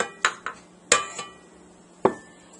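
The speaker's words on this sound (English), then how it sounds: "And now I'm going to add 1 egg" An egg is cracked against a bowl edge and added to peanut butter blossom cookie dough: a few sharp knocks and clinks spaced over a couple of seconds, close and clear in a quiet room.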